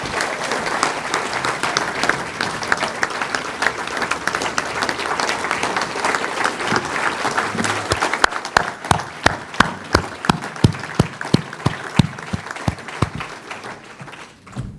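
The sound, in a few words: applause for inductees at induction ceremony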